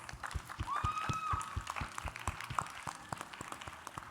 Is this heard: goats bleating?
no